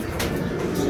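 Pigeons in a loft give soft, low cooing calls that repeat in a steady stream, close and moderately loud over faint background noise.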